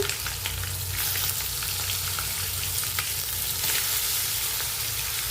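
Stuffed brinjals, a north Karnataka dish, fry in hot oil with a pinch of asafoetida, giving a steady, dense sizzle that holds evenly throughout without any voices.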